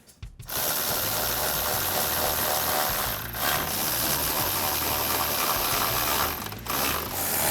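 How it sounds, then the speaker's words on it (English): A ratchet socket wrench with a 10mm socket tightening bolts on a 2021-2022 Ford F-150 grille, rapid continuous clicking close up, with two brief pauses where the ratcheting stops and resumes. "And then we'll tighten those down with our 10mm socket."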